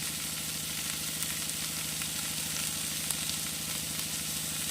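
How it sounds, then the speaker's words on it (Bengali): Potato and vegetables with turmeric, salt and two green chillies fry in a pan, giving a loud, continuous hiss and crackle of oil that stays steady throughout with no voices. "আর দেবো দুটো কাঁচা লঙ্কা দিয়ে ভালো করে আর একটু কষিয়ে নেব"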